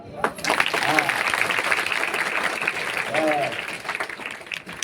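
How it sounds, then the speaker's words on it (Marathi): An audience at a gathering claps in a steady, fairly loud burst that runs through most of the moment, while a voice speaks over it briefly. "हाताना टाळी वाजवायची."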